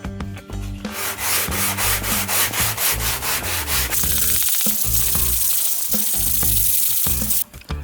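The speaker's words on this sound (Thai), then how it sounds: "เดี๋ยวเราจะขัดไปเรื่อยๆ นะครับ จนกว่ามันจะเสมอกับปีกนะครับ" A sanding block rubs back and forth over a wooden spar set into a foam RC airplane wing, making steady, close, rhythmic scraping strokes at an even pace with no talking.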